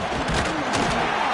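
A roaring stadium crowd in the EA College Football 26 video game, a steady dense wall of cheering and noise, loud and continuous with no pauses.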